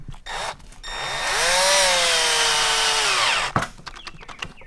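A power drill drives into material while building a fishing rod rack, its motor rising to a loud whine for about two seconds before stopping, close by with brief clicks and handling noises around it.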